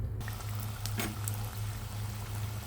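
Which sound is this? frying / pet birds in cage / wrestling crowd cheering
frying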